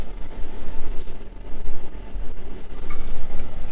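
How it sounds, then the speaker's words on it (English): Steady stream of water running from a sink tap in a farmhouse holiday rental near Shrewsbury, a continuous close rushing hiss with no talking over it. "good flowing water"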